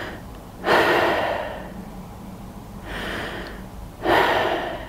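Two deep, audible breaths drawn in through the lungs, each a close, airy rush of inhalation, with a quieter exhale between them.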